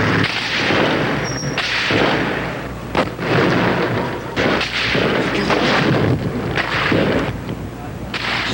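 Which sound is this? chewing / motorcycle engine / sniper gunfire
sniper gunfire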